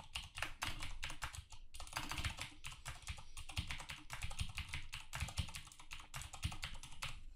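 Fingers type steadily on a computer keyboard, a close, quiet stream of rapid key clicks with brief pauses between bursts.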